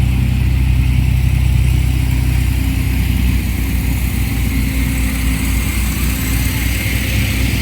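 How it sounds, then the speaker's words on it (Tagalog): Heavy road traffic with many vehicles, a dense continuous roar of car and motorcycle engines passing close by, with voices mixed in. "Daming sasakyan uy."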